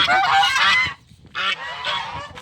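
Loud, harsh goose honks close by, one long burst of calls, a short pause, then another run of honking.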